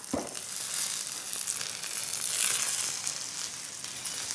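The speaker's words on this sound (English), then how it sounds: "I love the little sizzling sound that makes." A pound of mushrooms with garlic cloves sizzles steadily in a hot pan, a soft, continuous hiss with faint crackles, no voices.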